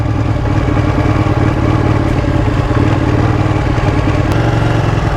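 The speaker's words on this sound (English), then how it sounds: "The Ducati's off-roading." A 2019 Ducati 959 Corse sport motorcycle with Öhlins suspension rides over an off-road surface, its engine a steady, loud mid-pitched drone that holds constant throughout with rough, rumbling texture and no talk.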